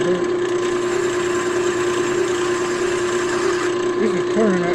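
A wood lathe spinning a pen blank at slow RPM gives off a steady motor hum with a constant tonal whine, and a few brief squeaky sounds come in near the end.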